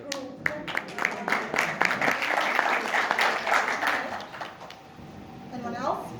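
An audience applauds a youth team presenting on disability services, a soft scattered patter of hands rising and thinning out over several seconds, with voices murmuring underneath.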